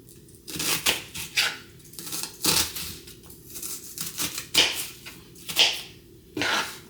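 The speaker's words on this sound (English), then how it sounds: "so why am I chopping the onion?" A knife chops an onion repeatedly on a cutting board, irregular crisp strikes at close range, with quiet pauses between bursts.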